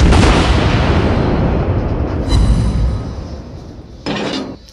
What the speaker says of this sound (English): That's a lot of secondary fire going his way.